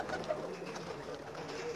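Superman breed pigeon cooing softly while being handled, a few low throaty coos under a quiet room tone, with no speech.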